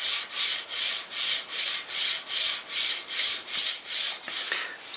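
A Hiwin linear rail carriage makes hissy back-and-forth sliding strokes, repeating steadily around ten passes, each a bright scraping whoosh, close and moderately loud.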